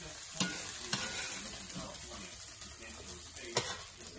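Softened vegetables for pepper steak moved around in a hot skillet, a soft continuous sizzle punctuated by a few sharp clicks of a utensil against the pan.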